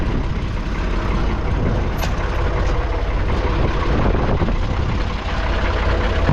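A Ford 6610 tractor drives a silage blower through its PTO while unloading a wagon of sweet corn silage, a loud constant engine drone and rumbling roar with faint clanks, close and without voices.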